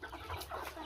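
Pet chickens clucking near their pen, a steady cluster of soft, overlapping clucks at close range with no talk.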